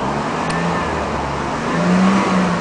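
Mercedes 300 SEL with a bad transmission, its engine running steadily and rising into a brief louder rev near the end as it is put in gear, close and alone.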